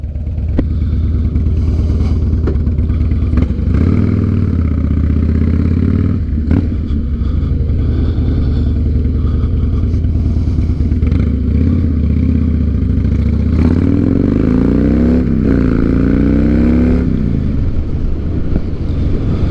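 A 2007 Harley Davidson Night Train engine runs steadily with a loud low rumble and clatter, plus some wind noise. Near the end the pitch rises and falls as it revs.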